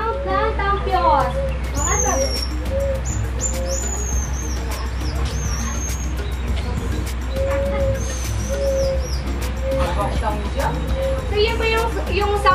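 A tampios, a small whistle made of baby bamboo from a Palawan tribal village, imitates bird calls with thin, high, sliding whistles and short warbling notes. A voice talks briefly near the start and end.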